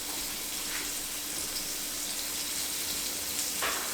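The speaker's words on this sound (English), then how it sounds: "we're going to throw it right in to our heated pan" Flour-coated cubed steaks sizzle in a heated pan with a steady, close crackling hiss that carries through to the end without a break.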